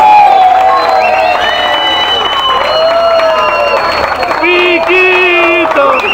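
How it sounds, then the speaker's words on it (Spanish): Strong applause and cheering from a crowd at a salsa dance event, loud and sustained, with shouts and voices mixed throughout. "un fuerte aplauso"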